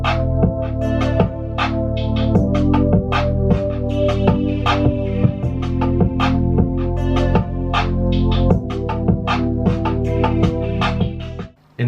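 A full hip hop beat plays throughout: sustained chords, a deep bassline, percussion and a steady kick drum, in a dense, loud loop with a regular rhythm and no talk over it.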